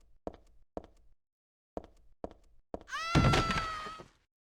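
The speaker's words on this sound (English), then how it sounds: "hearing Heather scream as the mannequin head gets fucking chopped off is so delightful" From the video game Silent Hill 3: several sharp, isolated thuds, then a sudden loud chop as a mannequin head is cut off, joined by a piercing female scream that rings for about a second before cutting out.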